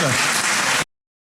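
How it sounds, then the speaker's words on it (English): Audience applause at a White House Conference on Aging speech, a dense burst of clapping that cuts off abruptly after under a second. "please give Vicki a big round of applause for the outstanding work she's doing"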